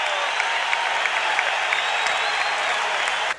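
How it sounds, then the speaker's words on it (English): A crowd at an NBA basketball game in Orlando's arena applauds and cheers in a steady, loud wash of clapping that fills the space and holds for several seconds before cutting off abruptly. "and listen to the crowd"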